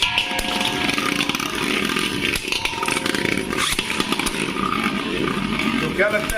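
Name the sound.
Beyblade tops spinning in a stadium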